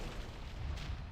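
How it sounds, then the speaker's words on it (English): Deep, rumbling booms of a cannon barrage in a video game rolling together into a continuous heavy barrage, dense and loud with no clear gaps. "Cannon barrage."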